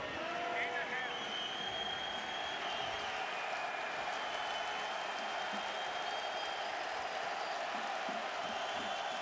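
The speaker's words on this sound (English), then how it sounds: "So the crowd trying to come to life here for North Dakota State" Crowd noise at a North Dakota State vs UC Davis college football game, a steady, distant roar of cheering and scattered clapping filling the stadium under a commentator's voice.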